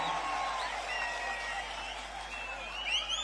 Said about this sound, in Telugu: గట్టిగా చప్పట్లు కొట్టి కూడా చెప్పండి ఆమోదిస్తామని